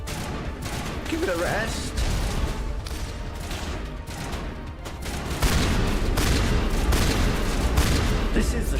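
Gunfire from the video game Mass Effect, a dense, continuous barrage of shots and blasts that swells louder in the second half, with someone talking over it.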